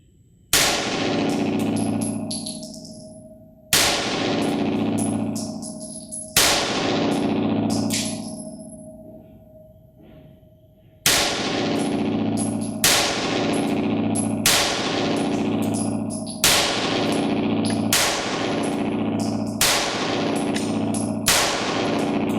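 An STI Costa Carry Comp pistol firing ball ammunition cracks out nine loud shots with ringing echoes, first spaced a few seconds apart and then in a faster, even string.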